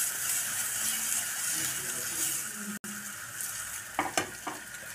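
Paneer cubes lightly fry in a little oil in a covered pan, giving a steady, close sizzle throughout with a brief dropout midway and a few louder stirring scrapes near the end.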